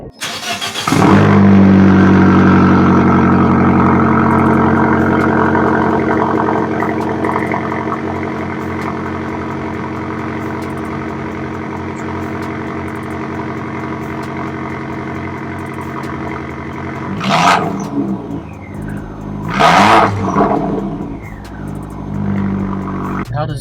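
An Abarth 595 Competizione engine cranks and catches loudly up close, settles into a steady throaty idle, then gives a few sharp revs near the end.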